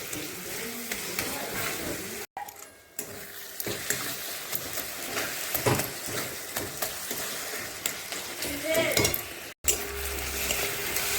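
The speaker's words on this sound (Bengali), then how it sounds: "তাই লবণটা দিয়ে এখন মশলাটা কষায় নেব" A spice paste of ginger, garlic, tomato and onion with salt is sautéed in a pan for mutton curry, with continuous stirring and scraping over a sizzling fry, close and fairly loud, with two brief cuts.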